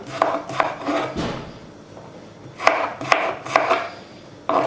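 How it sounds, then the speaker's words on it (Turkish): Knife chopping börek filling on a board in a home kitchen: a series of sharp, close cuts in uneven bursts, a few quick strokes, a pause, then more quick chops, with no talking. "Bu şekilde doğruyorum"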